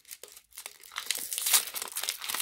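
Crinkling and tearing of a Pokémon card booster pack wrapper being opened, close and steady, with the plastic rustle building in loudness toward the end.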